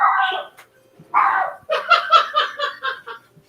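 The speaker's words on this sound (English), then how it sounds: "she's barking" A dog barks and yips in a quick excited run of short, close, loud barks after a couple of longer whining calls, with light laughter-like sounds mixed in.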